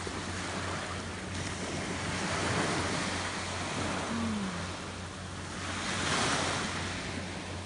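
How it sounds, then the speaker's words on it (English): Ocean waves washing onto a shell-covered beach, a continuous broad surf roar swelling and receding in slow gentle surges, with light wind buffeting on the microphone and no talk. "I just wanted you to hear the water with me for a minute."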